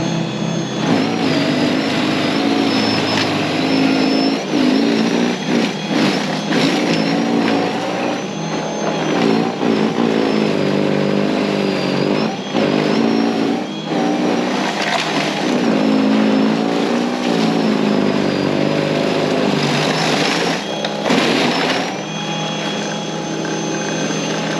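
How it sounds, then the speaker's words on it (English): A Greenworks 40V battery-powered snow blower runs continuously for the whole stretch, a loud steady electric motor whine and auger churn, close by with slight fluctuations as it works through snow. "first up we got this little snow blower here. You press this button and you pull this thing and it goes."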